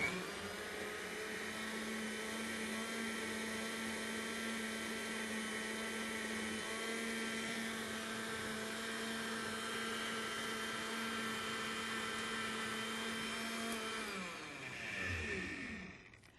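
A blender running on high whirs through a creamy cashew sauce in a kitchen, a steady, even motor whine that holds for most of the stretch, then winds down and cuts off near the end.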